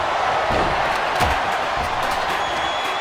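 A raucous crowd cheers at a WWE 2K24 Survivor Series War Games wrestling match, a steady, dense roar filling the arena with occasional thuds from the ring underneath.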